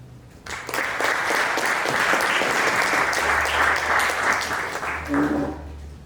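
An audience applauds to welcome architect Tim Nichols, founding principal of NO Architecture, at a mass timber presentation; the sustained, loud clapping starts abruptly and fills the room for several seconds before tapering.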